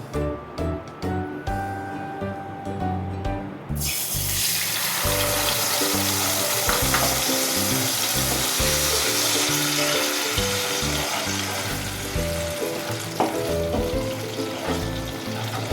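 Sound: ginger garlic onion clove green chili paste frying

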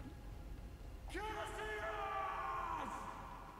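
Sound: character yelling in Dust: An Elysian Tail video game

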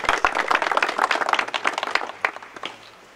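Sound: audience applause for a general

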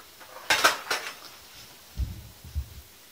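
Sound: stirring raspberry jam with honey in a pot

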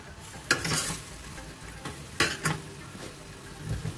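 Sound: stirring pork goulash in a pan

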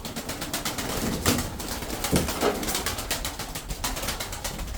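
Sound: tumbler pigeons cooing

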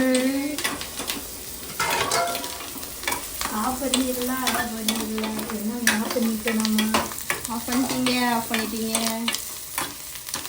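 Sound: sautéing and stirring in a pan

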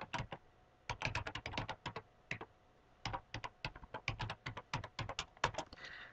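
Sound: typing a password on a computer keyboard

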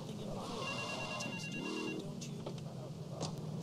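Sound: payphone ringing in the video game GTA III

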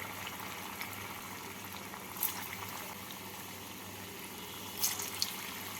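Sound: sweet potato rospuli frying in hot oil

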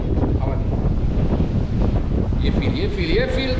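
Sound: strong wind blowing

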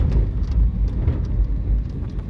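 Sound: oncoming car passing on the road

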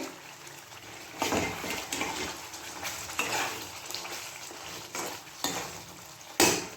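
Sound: marinated chicken being sautéed and stirred in a pan

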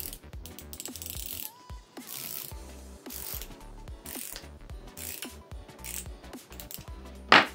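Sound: flexible ratchet handle mechanism being disassembled

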